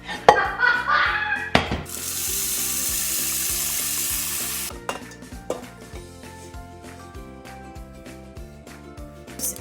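Chocolate bar melting and being stirred au bain-marie for chocolate mousse: metal utensil clinks and scrapes against the bowl, a burst of loud hissing steam in the middle, then lighter rhythmic stirring taps.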